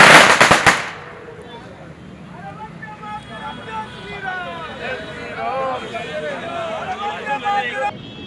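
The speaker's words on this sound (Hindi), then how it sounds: "पटाखे फूटे।" A rapid string of loud firecracker bangs crackles up close in the first second, then fades into a murmur of voices and talking in a busy outdoor gathering.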